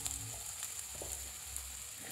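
Mango pieces frying in hot oil for a sweet pickle, a faint, steady sizzle up close with soft crackles and no voices.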